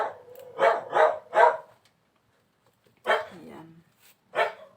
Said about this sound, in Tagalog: Hindi mo maiwasan na yung aso ay tatahol talaga. Kapag mayroong taong dumadaan dito sa aking harapang bahay.